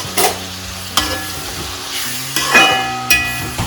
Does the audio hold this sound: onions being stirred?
yes